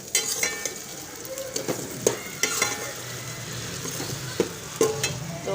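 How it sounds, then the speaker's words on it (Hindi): Okra and onions frying together in a pan of hot oil, a steady sizzle with repeated sharp scrapes and clicks of a spoon stirring, close and fairly loud, no talking. "इसको थोड़ी देर प्याज के साथ फ्राई कर लेते हैं।"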